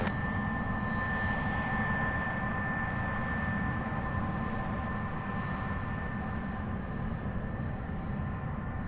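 A UPS heavy cargo jet takes off from runway 17 right at Louisville International Airport, heard as a steady, loud, broadband engine roar with a sustained tonal whine that holds through the whole stretch.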